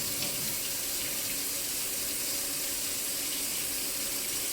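Warm water runs steadily from a kitchen tap into a sink, a loud, continuous hissing gush with no breaks and no talk over it.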